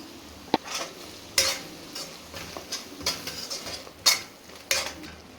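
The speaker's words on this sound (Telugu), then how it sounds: "అల్లం ఎల్లిగడ్డ పేస్ట్ పచ్చివాసన పోయే వరకు వేయించుకోవాలండి." Ginger garlic paste with turmeric stirred and fried in a pan for mutton curry, a soft steady sizzle broken by repeated scrapes and clinks of a spoon against the metal, fairly quiet and close.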